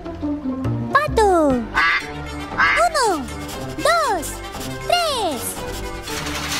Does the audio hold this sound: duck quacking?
yes